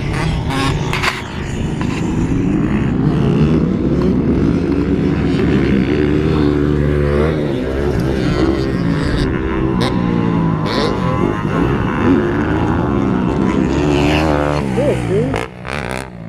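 A motocross dirt bike engine screams at sustained high revs in fourth gear, bouncing off the rev limiter in a loud, continuous buzzing drone at Cuhilla Creek motocross track, close by with a brief dip near the end.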